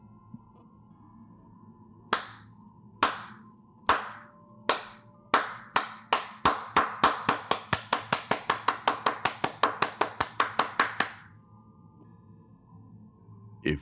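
Sharp, close single hand claps over a low hum in a spooky storytelling setting, starting slow and spaced, then quickening into a long even run of rapid claps before stopping abruptly.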